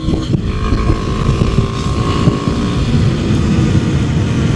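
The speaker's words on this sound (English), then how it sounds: "Wide open throttle, and I barely cracked 60 miles an hour." A Kawasaki KLX300 motorcycle runs at wide open throttle through its gears, heard as a steady engine drone heavily buffeted by wind noise, close and loud without any distinct shift breaks.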